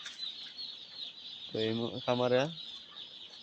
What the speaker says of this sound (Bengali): তো দেখতে পাচ্ছেন আমার মুরগির খামার।